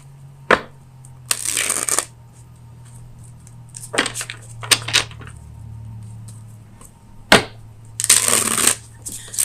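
Tarot cards shuffled in several quick riffling bursts, close and fairly loud, separated by soft taps and handling noises, with no voices.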